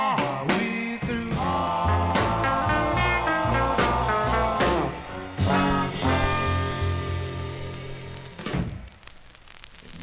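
A 1950s doo-wop 45 rpm vinyl record plays with full band and vocal harmonies at a steady level, then fades out toward the end.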